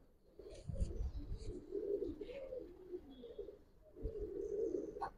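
A female Giribaz pigeon coos in a series of soft, low throaty calls, fairly close and repeating in two bursts with a short pause between.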